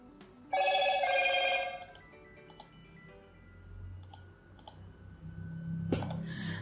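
A phone notification arrives on the devices, a bright electronic ringing tone lasting about a second, followed by scattered clicks, faint tones and soft handling noise.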